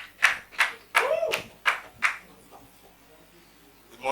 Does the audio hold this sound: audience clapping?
yes